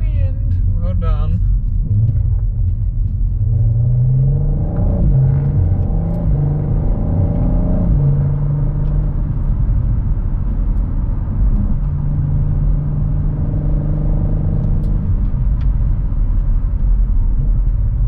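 An Audi RS 4 drives along with a steady low engine rumble and road noise from inside the car, rising briefly in pitch, while someone talks over it throughout.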